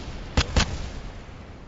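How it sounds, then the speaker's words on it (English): Rocket exploding in the video game Kerbal Space Program, heard as two quick muffled bangs in close succession, then a fading rumble. "we're about to hear some big explosions, I think"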